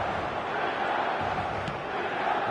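A virtual stadium crowd in the eFootball video game on PS5 makes a steady, dense murmur and roar of many voices at moderate level, continuous without distinct peaks.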